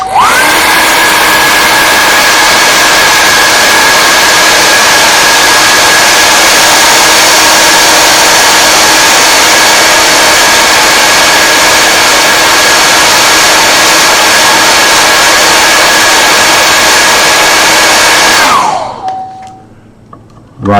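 A hair dryer runs loud and steady, close by, drying wet paint on a watercolour seascape, then clicks off near the end, leaving a brief whir as it winds down.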